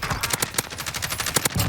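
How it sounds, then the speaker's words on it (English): Rapid automatic gunfire in the shooter Call of Duty: Warzone, a tight burst of about a dozen sharp, loud cracks in quick succession with no talking. "Taking fire over here."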